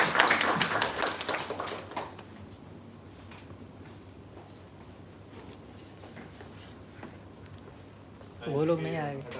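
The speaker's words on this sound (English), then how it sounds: "So big round of applause for this team." Applause from a company townhall audience in appreciation of a team, a loud burst of clapping in the opening two seconds that quickly fades to a low murmur, with a voice speaking briefly near the end.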